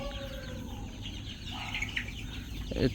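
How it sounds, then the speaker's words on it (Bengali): Chickens of a super hybrid breed cluck and call on a poultry farm, a steady close chorus of fowl with a louder burst near the end. "আপনারা চাইলে এই সুপার হাইব্রিড জাতটি নিয়ে মুরগি লালন পালন করতে পারেন খামার শুরু করতে পারেন"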